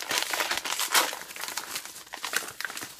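Plastic packaging of a mailed book package crinkles and rustles up close as it is handled and opened by hand, in a run of crisp, irregular crackles.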